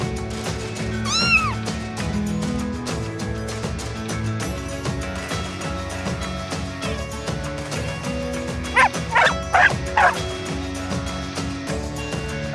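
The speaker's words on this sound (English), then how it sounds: "A dog barks." A dog barks in a quick burst of several sharp yaps, along with a short earlier whine, set against cheerful children's background music.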